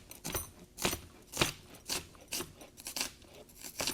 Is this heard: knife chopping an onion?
yes